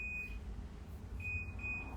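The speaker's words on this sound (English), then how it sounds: "Just waiting for my dryer to be done beeping." A clothes dryer's high-pitched electronic beep sounds in short bursts, one near the start and two in quick succession later, over a low hum.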